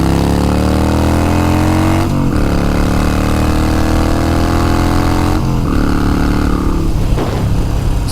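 Harley-Davidson Iron 883 Sportster, a Stage 1 build with Vance & Hines Short Shots exhaust and VP3 tuner, rumbles loud and close, holding a steady idle and rising in pitch through several revs, with brief throttle blips around the middle and end.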